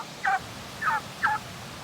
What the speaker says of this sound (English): The turkeys are wanting to talk to you this morning.